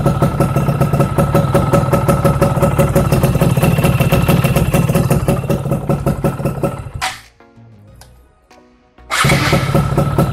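Yamaha F1ZR motorcycle engine with a newly replaced membrane, idling close and loud in a steady rapid putter. It cuts out for about two seconds, then fires up again on the starter.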